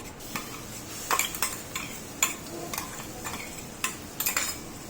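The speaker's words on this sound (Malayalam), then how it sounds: "ആഡ് ചെയ്ത് കൊടുത്തിട്ട് നന്നായിട്ട് ഇതൊന്ന് ഇളക്കിയെടുക്കുക." A spoon scrapes and clinks against a pan while a curry mixture is stirred, a faint sizzle underneath and a dozen or so irregular close knocks spread across a few seconds.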